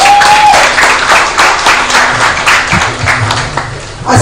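An audience at a female founders' demo day event breaks into loud, sustained clapping, a dense applause with a brief tone at the start and some faint voices under it.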